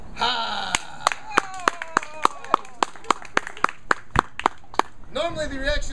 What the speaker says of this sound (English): So thank you, I appreciate the applause